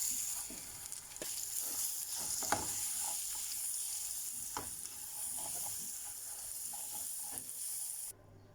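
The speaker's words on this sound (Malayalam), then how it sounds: "ഇനി അതേ പാനിൽ തന്നെ നെയ്യിലേക്ക് പഴുത്ത ചക്ക എടുത്ത് മിക്സിയിലിട്ട് പേസ്റ്റ് ആക്കിയിട്ട് ഇട്ട്" Ripe jackfruit paste frying in ghee in a pan for chakka payasam gives a steady close sizzle with scattered stirring scrapes, cutting off abruptly at the end.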